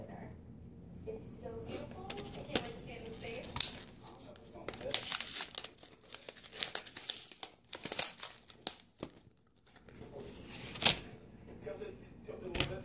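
A crinkly plastic package from Dollar Tree is being opened by hand, giving close, loud bursts of crumpling and tearing that come in irregular waves, with faint talk at times.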